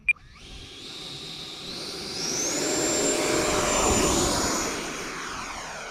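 A radio-controlled ducted fan jet, an 80mm or 90mm model, flies past with a steady rising whine and roar that swells as it nears, peaks, then fades slightly.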